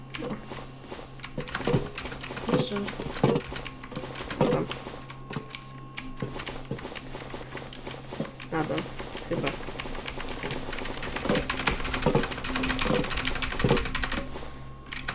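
Rapid mouse clicking during a session of the horror game Apeirophobia, a steady run of sharp ticks that comes and goes in bursts, with a person talking throughout over background game noise.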